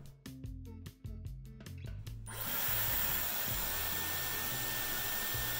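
Dyson Airwrap hair styler, used for curling hair, begins with choppy stuttering airflow pulses and then settles into a steady loud continuous blowing whoosh close by.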